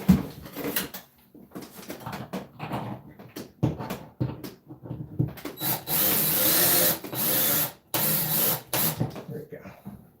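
A handheld power drill runs in several bursts, short whirs at first and then two longer steady runs, close and loud, between quieter handling noises in a room.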